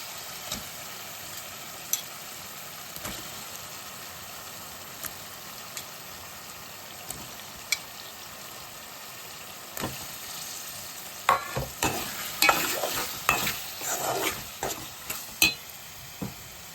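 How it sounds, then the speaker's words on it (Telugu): Prawns added to tomatoes softening in oil for gongura curry, a soft continuous sizzle with sparse clicks, then a burst of louder crackling and stirring scrapes near the end. "టమాటాలు కూడా ఆయిల్లో మెత్తగా ఉడికించుకున్న తర్వాత మనం నీట్గా కడుక్కున్న రొయ్యలు వేసుకుందాము."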